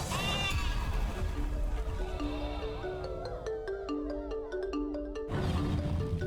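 Goat bleating in a video game trailer, a loud nasal bleat at the start rising over dense music, then a plucked melodic passage, with a final bleat near the end; no talking.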